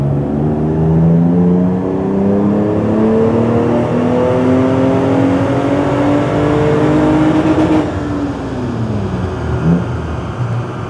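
A Mercedes W124 with a 3.0 engine on an EMU Classic ECU, automatic gearbox, revs hard under full-throttle acceleration. Loud, close engine tone climbs steadily for several seconds, then drops with a gear change and pulls again.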